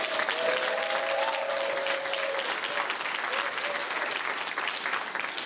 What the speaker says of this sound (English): please give our listening panel a round of applause